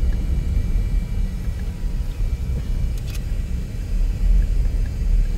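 Steady road traffic rumble near a Philippine campsite, a continuous low drone of passing cars that stays at an even, moderately loud level throughout with no voices.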